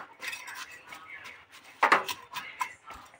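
A lid goes onto a cooking pot holding khesari greens and a little water on the stove. Close metallic clatter and light clinks sound, with one sharper clank in the middle.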